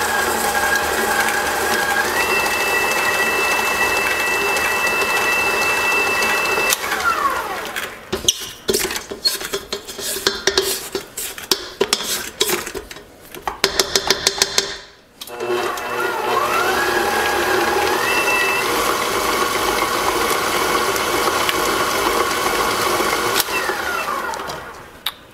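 Homemade unsweetened compote and sugar being mixed in a bowl with an electric mixer, a steady loud motor whine that breaks into rattling, clattering bursts midway, cuts briefly, then resumes its drone.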